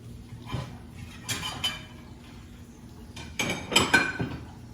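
Thick plates are handled in a home kitchen, with a few sharp ceramic clinks and knocks in two short clusters, close by amid quiet room noise.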